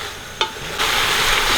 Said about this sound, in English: now all the vegetables have been frying for the last 3 minutes